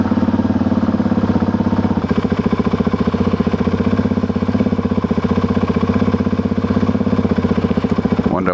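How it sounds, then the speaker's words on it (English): A motorcycle engine with a freshly filled 21-litre tank idles close by, loud and rhythmic, its steady chugging pulse turning slightly rough and uneven partway through, with no voices. "Bike's idling a bit funny."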